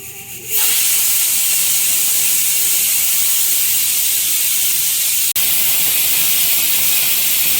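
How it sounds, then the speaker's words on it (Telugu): A pressure cooker on the stove, with mushroom biryani cooking inside, releases steam through its whistle. After a brief start, a loud, steady hiss holds for several seconds with one tiny break, and no voices are heard. "సో ఇక్కడ మన 3 విజిల్స్ అయిపోయినాయి"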